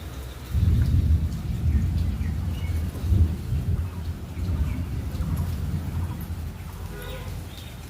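Steady rain patters while deep thunder rumbles and rolls close by, swelling around the first and third seconds and then fading into the rain's constant hiss.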